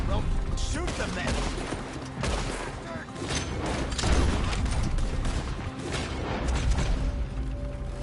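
Gunfire in Red Dead Redemption 2 cracks out in dense, repeated shots and volleys amid a chaotic street shootout, loud and near, with characters shouting over the battle.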